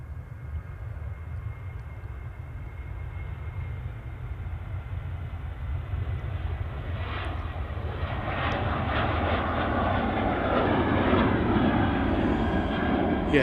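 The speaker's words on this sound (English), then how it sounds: "Next departure is Boeing 737-800 off to Lanzarote" A 15-year-old Ryanair Boeing 737-800 departs Manchester Airport for Lanzarote. Its jet engines give a steady, growing roar that swells as it powers up and passes closer, heard alone without talk.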